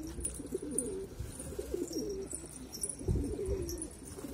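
A pigeon coos softly and repeatedly at close range against a quiet background, with faint chirps from other birds.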